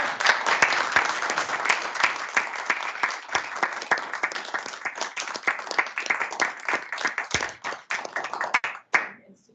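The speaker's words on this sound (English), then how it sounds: "One more round of applause." Sustained audience applause at a Port Authority of Allegheny County board meeting, dense clapping from many hands that holds steady, then thins out and stops near the end.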